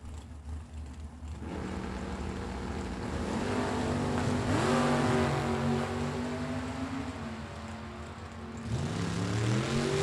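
Drag race cars, including a '41 Willys, launch and run down the lanes at a Super Pro bracket race, giving a loud, sustained engine roar whose pitch climbs through gear changes, with a second surge near the end.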